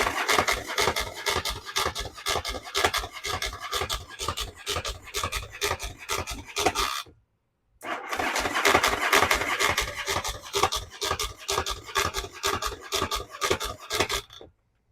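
A Yamaha Virago motorcycle's starter motor cranks the engine with a fast, rhythmic chugging, close and loud, stopping briefly midway before cranking again.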